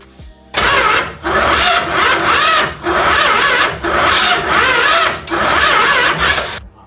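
A Dodge Dart Swinger with a swapped-in 440 V8 cranks hard in loud, close, repeated pulses of starter and engine churn, never settling into a steady idle.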